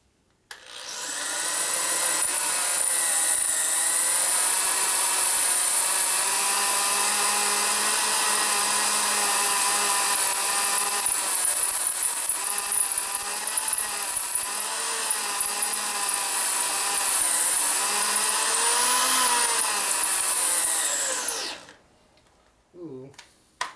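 A drill bores into a broken sprocket bolt on a Harley Twin Cam rear wheel, a loud sustained high-pitched grinding whine held for about twenty seconds with slight wavering, then stopping abruptly, close and without talk.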